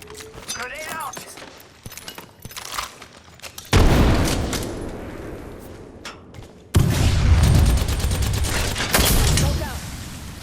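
Apex Legends combat: a frag grenade detonates in a loud boom, followed by bursts of rapid gunfire and crackling explosions, with scattered shots earlier and dense loud firing in the second half.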